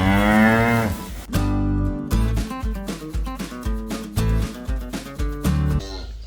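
Cows with young calves in a barn pen moo loudly and close by, one long low call followed by a series of shorter, overlapping moos in quick succession.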